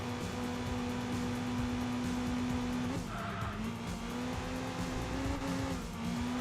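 A Honda Civic with VTEC racing on the Nürburgring Nordschleife in Enthusia Professional Racing, a steady high-revving engine drone with a brief shift dip midway, continuous and close with no voices.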